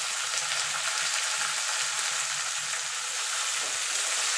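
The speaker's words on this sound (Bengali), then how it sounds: "এবার এইভাবে আমি শাপলাটা একটুখানি ভাজা ভাজা করে নেব।" Salted water lily stems fry in a pan with onion, giving a loud, continuous bright sizzle that holds steady throughout, close up, with no voices.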